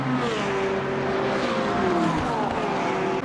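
Race cars at Monza in the sim game Le Mans Ultimate, with multiclass cars including a BMW, roar past continuously, several engine notes rising and falling in pitch as they accelerate and shift, loud and sustained.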